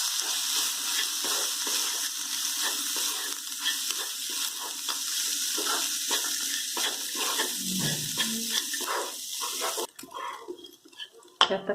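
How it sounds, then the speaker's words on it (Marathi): Spices roasting for a tikhat sandge bhaji sizzle loudly in a hot pan, with a steady hiss broken by frequent spoon scrapes and clinks against the metal, ending in a few sharper knocks. "आता आपण छान 1 मिनिट भाजून घेऊया"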